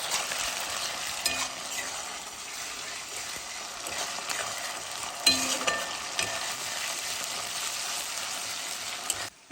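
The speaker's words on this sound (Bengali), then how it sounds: "আদা রসুনের পেস্টটা দিয়ে আমি ভালো করে নাড়বো।" Ginger garlic paste being stirred into lightly fried onions in a pan, a continuous soft sizzle with scraping stirs and a few louder spoon knocks, close and steady with no talking.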